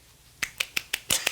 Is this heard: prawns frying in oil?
no